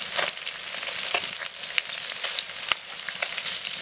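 Garlic, chopped onion and a dried red chilli crackle in hot oil, a dense steady sizzle with scattered sharp pops and small stirring clicks, close and fairly loud, with no talking.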